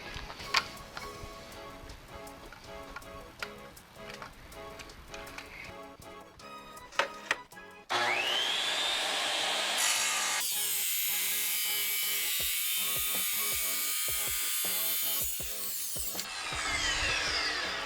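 A DeWalt tile saw cuts through marble, starting with clicks and handling noise, then a loud steady motor whine and blade grind that carries on for several seconds, dips briefly and resumes.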